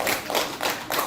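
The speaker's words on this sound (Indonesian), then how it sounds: "tepuk tangan untuk Bu Jana" A small group claps during a teachers' training session in Indonesia, a few close, roughly rhythmic hand claps in quick succession over about a second.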